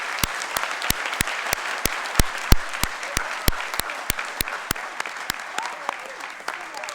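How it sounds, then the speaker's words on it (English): Audience applause for the finalists at a Haas School of Business MFE commencement, a steady wash of many hands clapping with sharp individual claps standing out, sustained and fairly near throughout. "I would ask you for a round of applause for our finalists"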